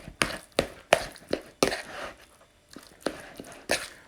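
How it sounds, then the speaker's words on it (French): A knife chops chives on a board in a home kitchen, roughly a dozen sharp, close blade knocks in an uneven rhythm, some in quick pairs, with a short pause in the middle. "Je vais hacher de la ciboulette."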